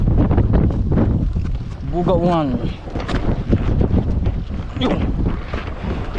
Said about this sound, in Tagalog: Mahangin talaga dito sa sulukan ito.